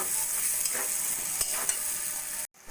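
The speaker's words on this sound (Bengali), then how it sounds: "আলুটা একটু মশলার সঙ্গে ভাজা ভাজা করে নেব" Constant hissing sizzle of potatoes frying with spices in a pan, with occasional soft stirring scrapes, close and even, cutting off abruptly near the end.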